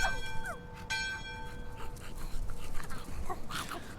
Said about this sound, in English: we get lots of puppers